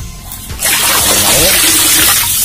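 Water splashes and gushes steadily over a cow during washing outdoors in a village, a loud continuous pour starting abruptly and running to the end without talk.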